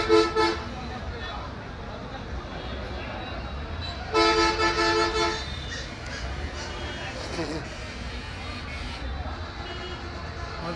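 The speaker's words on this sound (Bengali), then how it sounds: "রোজার মধ্যে গাড়ি ঘোড়া যানজট" Vehicle horns toot repeatedly in a congested road jam packed with autorickshaws in Katiadi, with short honks early on and a louder burst of honking midway over steady traffic rumble.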